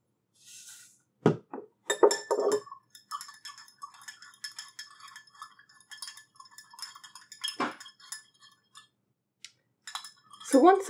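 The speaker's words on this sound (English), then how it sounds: "add 1 teaspoon of salt and stir for about 30 seconds until it's dissolved" A spoon stirs a teaspoon of salt into about 100 ml of water in a glass, making quick, light metallic clinks and taps against the glass. The clinks come in irregular bursts, close and fairly quiet, with short pauses between them.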